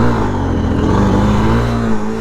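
Honda motorcycle engine revving hard during a wheelie, a loud close buzzing drone held steady at high revs with a slight dip near the end.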